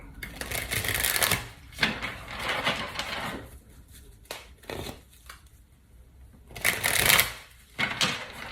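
Several bursts of tarot cards being shuffled, riffled quickly and close up, separated by quiet pauses, with soft handling sounds between them.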